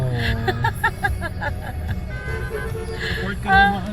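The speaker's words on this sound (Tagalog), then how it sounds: "Ang daming bumubusin." Several vehicle horns honk in short repeated blasts amid heavy truck traffic near a port, over a steady road rumble, with voices mixed into the street noise.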